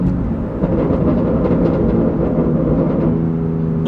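Loud, rumbling exhaust of a BMW M4 GTS with stock tune, crackling and burbling off throttle, heard close from inside the cabin as a dense, uneven popping growl.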